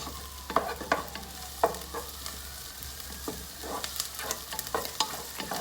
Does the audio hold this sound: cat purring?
no